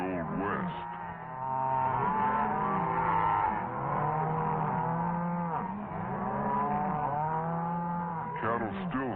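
Cattle bawl and moo in long, drawn-out, overlapping bellows at a calf branding on an Old West-style ranch, loud and close with barely a pause between calls.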